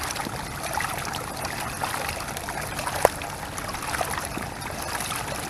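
Steady water trickling and splashing from a drainage system outfall, a continuous gentle rush with no voices.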